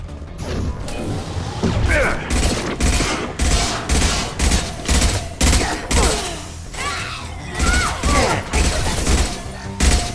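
Weapon fire in the sci-fi shooter Mass Effect 2, a loud string of heavy, evenly spaced shots with sharp, punchy impacts and mechanical clatter, close and dominant throughout.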